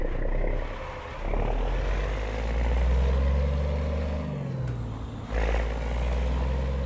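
Simulated Cummins M11 engine on a custom Kenworth truck in a driving game mod, a deep continuous diesel drone that dips briefly around a gear change and returns, steady and close with no talk.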